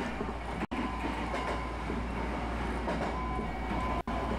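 Steady interior rumble of a Hankyu Takarazuka Line train running toward Hotarugaike Station, a continuous low drone with faint rail clatter and two brief dropouts, no voices.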